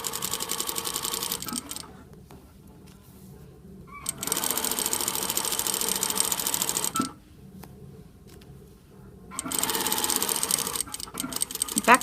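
A sewing machine stitches a French seam in close, rapid bursts: a run of several seconds, a pause, another long run, a second pause, then stitching again.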